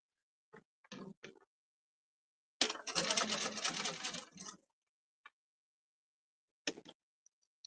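A Bernina sewing machine with a standard walking foot, sewing a Cuddle fabric table runner, runs in one steady two-second burst of stitching up close, with a few soft clicks and handling noises before and after.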